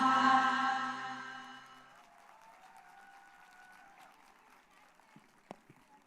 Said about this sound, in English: What a power-packed performance.